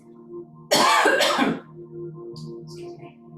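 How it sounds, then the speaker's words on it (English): A fitness instructor leading a stretching session gives a single sharp cough, close to the microphone, over quiet background music. "I must remember not to cough into the microphone."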